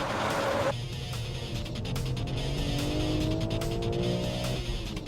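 A new BMW M3 race car slides through a corner on track, tires squealing in a long rising whine over the engine's steady drone.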